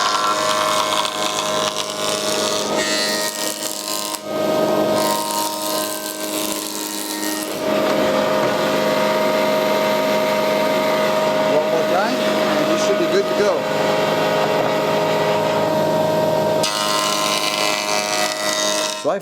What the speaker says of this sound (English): So the hollow side is always down to the planer.